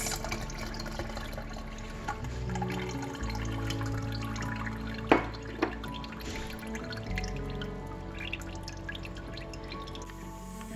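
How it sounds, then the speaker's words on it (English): Lemon juice and lime juice poured into a pitcher for cucumber mint limeade, a faint liquid trickle and a few drips with a couple of brief clinks, quiet and close. "Pour in the lemon juice and the lime juice."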